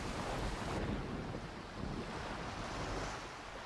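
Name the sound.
waves as a ship sails on flood waters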